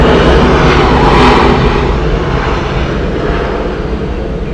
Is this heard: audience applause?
no